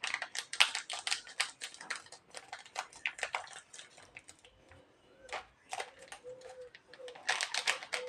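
Small 10-taka plastic packets of powdered milk are cut open and emptied into a bowl: close, intermittent crinkling, snipping and rustling in bursts separated by quieter pauses, with no talking.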